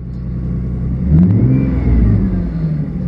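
A Ford Mustang with a 4.0 V6 engine revs up loudly and close by, its tone climbing and then holding steady before easing back down over a few seconds.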